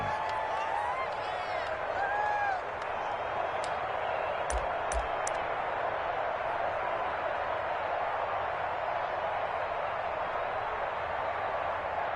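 Stadium crowd in a video game American football match featuring the Steelers, a steady, fairly subdued roar with faint whistles and occasional sharp claps, under a commentator's voice.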